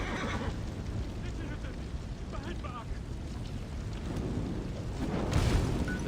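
A horse whinnies briefly in Assassin's Creed Origins, set against a continuous windy outdoor game ambience with soft hoof and movement sounds.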